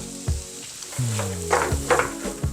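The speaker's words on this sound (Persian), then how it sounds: "این مواد 2 دقیقه با هم دیگه تفتشون میدم." Okra stew ingredients, turmeric, black pepper and spice blend, sizzle and crackle while being sautéed in a single frying pan, with stirring bursts and scraping close up, no voices.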